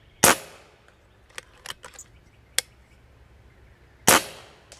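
.30 caliber bench rest air rifle firing two sharp, loud shots about four seconds apart outdoors, with faint clicks and small metallic knocks between them.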